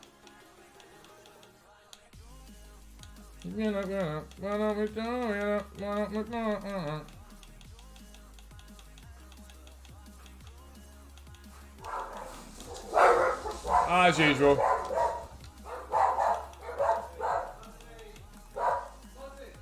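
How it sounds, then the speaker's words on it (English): A house guard dog barks in a run of rhythmic woofs, then yips and whines excitedly, fairly close, while a person talks at moments over a quiet background. "It's our guard dog."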